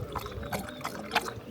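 Water poured over a dog on a hike in the Calanques, southern France, a soft close splashing and trickling in brief uneven bursts.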